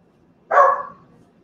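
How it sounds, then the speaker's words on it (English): A single short, close dog bark rings out sharply once and fades, alone in an otherwise quiet indoor room. "That is Smokey barking."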